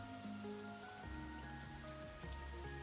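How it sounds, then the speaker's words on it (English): Continuous gentle rainfall in the Stardew Valley farming game, a soft steady patter blended with quiet background music and no talking. "I'm gonna be making it rain."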